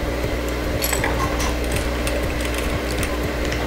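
Sewing machine stitching a zipper pocket seam, running steadily at close range with a fast, even mechanical clatter and whir throughout, no voices.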